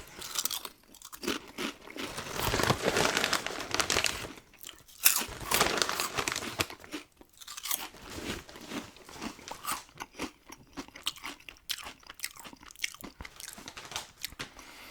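Hand-cooked Guinness-flavoured Irish potato chips crunch loudly up close, with repeated bites and chewing in irregular bursts and a few brief pauses.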